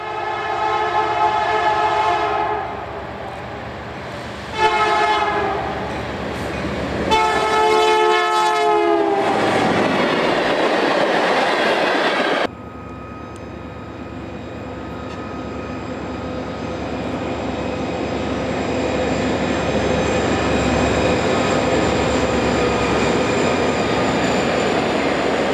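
Freight trains on the Canadian National Duluth, Missabe and Iron Range line hauling taconite, limestone and coke: several loud blasts of a multi-tone horn, then the steady rumble and rolling clatter of passing cars, continuing without voices.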